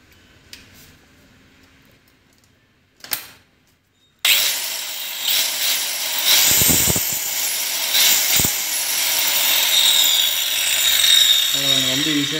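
Stanley STSP125 1320-watt marble tile cutter starting up after a few faint knocks, then a loud, steady whining motor hum running continuously up close, with a couple of brief thuds.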